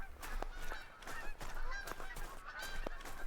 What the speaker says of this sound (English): I hear the birds are flying around all the time